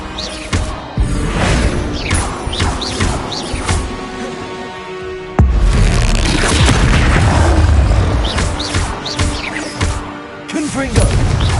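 Confringo spells in Hogwarts Legacy set off repeated loud booming explosions. The blasts come in bursts with crashing debris, and a player's voice calls out over the combat.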